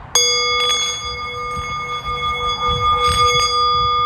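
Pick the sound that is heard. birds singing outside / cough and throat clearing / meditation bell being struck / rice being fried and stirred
meditation bell being struck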